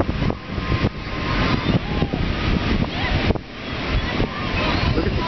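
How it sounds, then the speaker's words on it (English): Ocean surf at high tide rushes and rolls steadily, with a loud crash near the middle amid heavy wind buffeting the microphone and a voice speaking faintly underneath. "there's some rogue waves that are huge"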